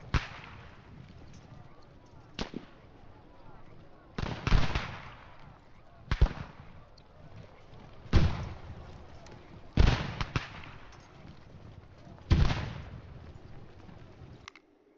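Musket volleys crack out in the Ultimate General: American Revolution video game, with sharp loud reports recurring every couple of seconds over a low battle rumble, and commands are called between shots.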